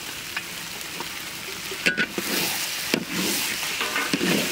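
Onions frying with ginger, garlic, green chili, cumin, coriander and dried chili pastes for a Bengali egg curry, a steady close sizzle with scattered stirring clatters and scrapes of a spoon in the pan.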